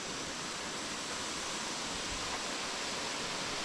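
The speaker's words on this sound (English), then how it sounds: "We're going to open our door and have a waterfall right out the door." Waterfall just outside an open camper door on a remote Canadian overland trip, a steady, dense broadband rush of falling water, close and constant with no voices.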